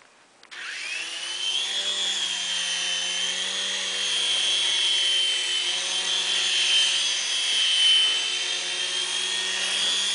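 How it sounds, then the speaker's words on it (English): A small helicopter flies nearby, its steady whine and rotor drone starting up abruptly and then holding loud and even throughout, with a slight swell near the end. "we're gonna fly Elliott's awesome helicopter"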